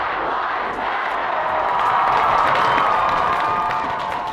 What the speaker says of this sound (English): Cheerful. People are cheering.